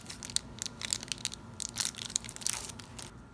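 Foil Bakugan card pack being torn open up close, a run of crinkly crunching and ripping bursts over about three seconds, with no talking.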